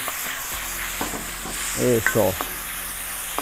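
Garlic, onion and peeled tomato stir-fry in a hot pan for Peruvian lomo saltado, with a soft sizzle under a spatula's scraping and clinking, and a voice speaks briefly.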